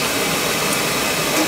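Burner motor of an oil-fired Beckett furnace spinning, giving a steady, even whirring rush that holds at one level for its brief length, close by and without talk.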